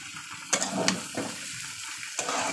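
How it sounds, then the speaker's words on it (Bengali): Onions and green chillies fry in a pan for chow mein while being stirred, a soft hiss punctuated by several scraping, clattering spatula strokes at an uneven pace. "চলুন এবার দিয়ে দেবো পেঁয়াজ আর কাঁচা লঙ্কা। এটা একটু নাড়াচাড়া করে"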